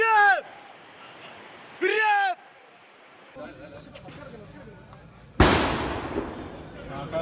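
A firecracker set off by forest officials to chase wild elephants off main roads in Kerala goes off as one loud, close bang with a lingering noisy tail, preceded by a few shrill, sweeping tonal calls.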